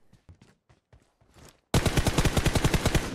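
Video game gunfire: a few soft footsteps are followed by a sudden, loud burst of rapid automatic shots repeating in a fast, even rhythm to the end.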